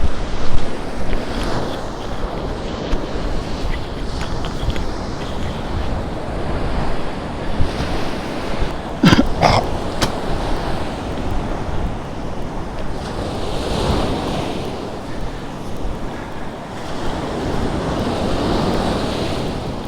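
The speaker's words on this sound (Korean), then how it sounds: "여기가 지금 이렇게 파도가 너무 쳐서" Ocean waves roll and crash steadily onto a beach, with gusty wind buffeting the microphone and a brief scrape partway through.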